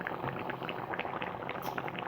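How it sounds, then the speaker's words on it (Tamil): Coconut milk avial with cluster beans boiling in a pot, a dense steady bubbling and popping simmer that runs throughout at moderate level, with no voices. "ஒரு கொதி வந்துருச்சுங்க"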